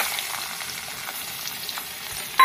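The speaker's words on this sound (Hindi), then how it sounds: "इसमें मैंने लिटिल बिट ऑफ ऑयल डाला है, थोड़ा सा, ठीक है। अब इसमें जाएगा, बटर में जाएगा" Capsicum fries in a pan of butter and a little oil, giving a steady close sizzle throughout with a sharp clink at the very end.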